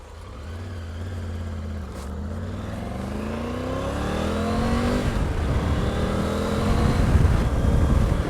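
Motorcycle on a road ride shifting back into gear and accelerating, engine note rising steadily in pitch and growing louder over about eight seconds, with wind and road noise underneath and no talking.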